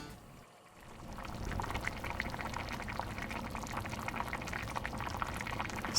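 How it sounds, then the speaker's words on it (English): Spicy Korean sundubu jjigae with soft tofu and an egg bubbles in a pot, a dense, steady close simmering and gurgling that rises after a brief quieter moment at the start. "Let it simmer for 1 to 2 minutes,"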